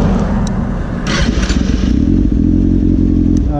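A motorcycle engine starts up close and loud, with clattering and scraping before it catches and then idles with a steady, rough rumble.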